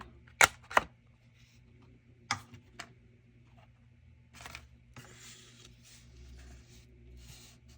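A corner punch rounding the corners of a handmade paper card gives a few sharp, close mechanical clicks, followed by soft rustling and handling of paper in an otherwise quiet room.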